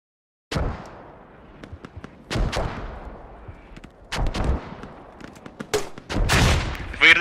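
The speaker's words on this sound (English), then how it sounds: "Incoming mortars. Get down." Incoming mortar fire in a video game: loud, close explosive blasts, about five separate booming impacts spread over several seconds with crackling debris trailing each one.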